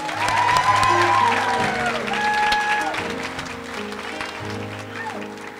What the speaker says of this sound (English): we need to give him a round of applause as well